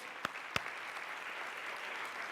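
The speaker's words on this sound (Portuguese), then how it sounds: "aplauda Ele com alegria, com júbilo, com autoridade" Two sharp claps ring out early, followed by a steady wash of church congregation applause and cheering that fills a large room at a moderate distance.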